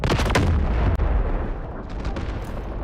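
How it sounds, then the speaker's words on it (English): An artillery barrage in the Delta Force video game sounds as a quick cluster of loud, close booming blasts, followed by rumbling explosions that roll on and fade. "Artillery barrage incoming."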